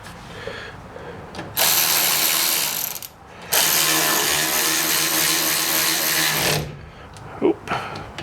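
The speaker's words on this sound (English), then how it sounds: "take your caliper bolts, slide them in, line everything up, and tighten everything down" A power tool, likely an impact wrench, tightens the caliper bolts on the rear brakes of a 2004–2014 Ford F150: two loud, sustained whirring-rattling bursts close by, each lasting a few seconds, followed by brief clunks.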